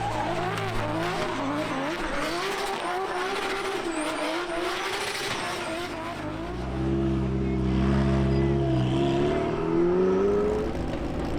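Race cars at the Goodwood motor racing festival in West Sussex, England, roar past in a steady, loud wash of engine noise, with revs climbing toward the end and no voices.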